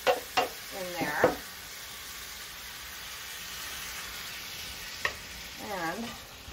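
Already-tender potatoes and diced tomatoes fry in a pan, making a soft, continuous sizzle with a few sharp stirring knocks near the start and once midway. A voice briefly sounds in the background.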